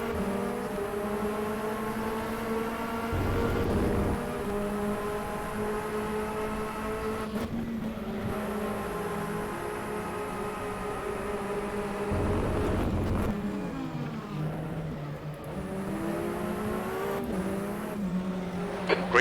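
LMP2 race cars drive in rFactor at the ELMS 4 Hours of Sao Paulo with a continuous high engine whine. Pitch rises and drops as the cars accelerate and brake, and gear shifts break the tone every few seconds.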